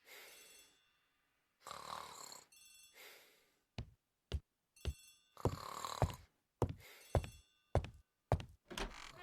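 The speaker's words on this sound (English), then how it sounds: "The telephone in the hall is ringing." Telephone ringing in a hallway in the 2016 video game Agatha Christie: The ABC Murders, a series of loud, ringing bell bursts separated by short silences.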